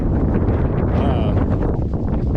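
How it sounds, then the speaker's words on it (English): Strong wind buffets the microphone in a steady, rumbling roar that keeps going throughout. "as you can probably hear, it's very breezy out right now"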